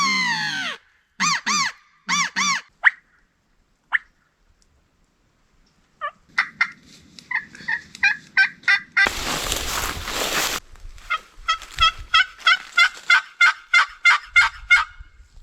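Osceola wild turkey gobbling during a spring hunt, several rattling gobble bursts early on and a long run of rapid repeated gobble-like calls later, fairly close and loud, with a burst of broadband noise in between.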